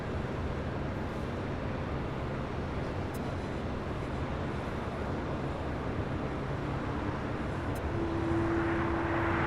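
A jet airliner roars steadily at Los Angeles LAX airport, a broad, loud engine rumble that holds throughout, with a rising whine and a faint tone near the end and no talk.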